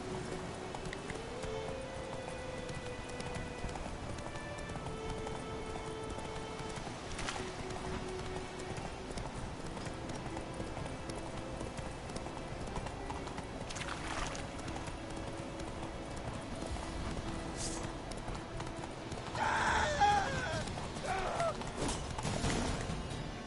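Roach the horse galloping in The Witcher 3, hooves clip-clopping in a steady rhythm over in-game ambience and music, moderately loud throughout.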